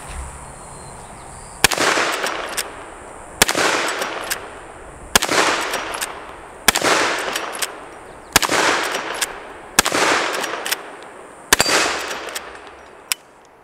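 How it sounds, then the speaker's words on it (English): Eight sharp, loud gunshots from a Henry lever-action rifle chambered in .44 Magnum ring out at a steady pace roughly every second and a half, each crack trailing a brief echoing decay, with no talking. "today we're going to be shooting this Henry lever action in 44 Magnum"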